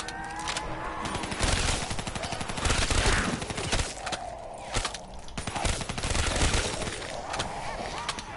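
Rapid gunfire from the Call of Duty Black Ops 3 Zombies video game rattles in dense bursts, mixed with honking, squawking game sounds and busy chaotic noise throughout.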